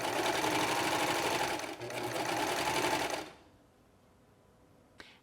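A serger stitching a thick satin-stitch rolled hem on a scalloped edge, a fast, even mechanical whir running for about three seconds with a brief dip, then stopping to near silence and a single small click.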